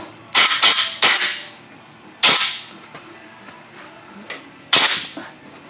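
Compressed air blasts clearing a freshly tapped hole in the cylinder of a 250 XC-W dirt bike: five short, sharp hissing bursts, close and fairly loud, with brief pauses between them and no talking.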